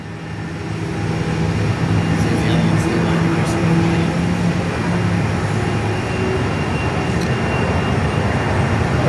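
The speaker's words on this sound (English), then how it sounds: "Virgin Aussie 737-800's now departing Perth on 21." A Virgin Australia Boeing 737-800 jet departs Perth on runway 21, a broad, steady roar heard from a distance throughout, with faint talk underneath.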